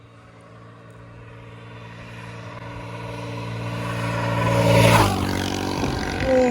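Dirt bike fitted with an oversized sprocket and its small fairing removed, on a top speed run: the engine roars as it accelerates, pitch and loudness rising steadily to a peak and then a brief shift, with no talk over it.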